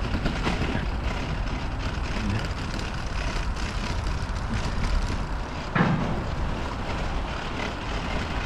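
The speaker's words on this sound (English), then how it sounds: "I don't know if you can hear the hum of traffic, but off in that direction is a motorway" Motorway traffic hums steadily and softly in the distance, heard from a quiet backstreet in Amsterdam Noord, a constant low rumble with a faint passing swell partway through and no talking.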